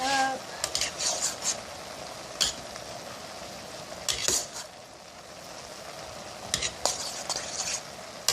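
Sautéed vegetables with Italian seasoning being stirred in a pan, a spoon scraping and clinking against the metal in irregular strokes over a soft steady sizzle.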